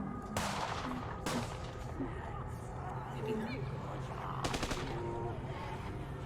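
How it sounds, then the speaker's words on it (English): Gunfire bursts in a hallway beyond a closed door, heard as a few sharp, muffled broadband cracks spread over several seconds beneath a steady background and faint murmuring. "you begin to hear the definitive bursts of gunfire from the hallway beyond the door"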